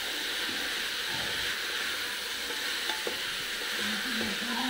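A potato and onion sabzi is stirred as it fries in a pot, giving a steady bright sizzling hiss with soft scraping stir sounds underneath. No one speaks.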